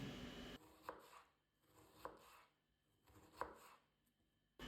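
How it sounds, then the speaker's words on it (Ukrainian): A knife chops half an onion finely on a cutting board: three slow, distinct cuts spaced about a second apart, quiet and close. "Беру пів цибулини та нарізаю дрібненько."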